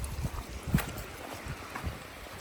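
A stream crosses the Appalachian Trail, giving a soft, steady rush of flowing water mixed with light wind noise and a few small thumps nearby, all fairly faint.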